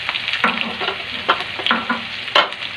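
Vegetables sautéed with fish bagoong in a pan, a loud close sizzle with several rhythmic scraping stirs of the spatula, with no talk.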